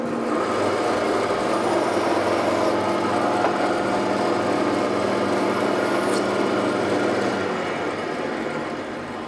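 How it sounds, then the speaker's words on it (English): A bandsaw trims wooden tenons with a steady, loud whirring drone and a cutting rasp, which shifts slightly as the cut ends. The sound is close and continuous. "So I'm gonna just cut these off quickly with the bandsaw just to test the fit."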